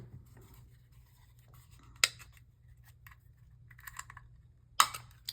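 Scissors snip through paper pieces for an art journal page, two sharp crisp cuts spaced apart with lighter rustling and handling in between, close and fairly quiet with no talking.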